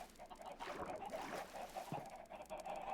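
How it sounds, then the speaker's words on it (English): Chickens cluck in a Minecraft-style survival game, a few soft fowl calls scattered through a steady background of game ambience. "Oh, chickens."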